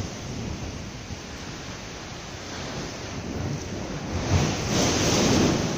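Deep, rumbling surge of sea waves booming and washing through a sea cave, swelling louder toward the end, with no voices.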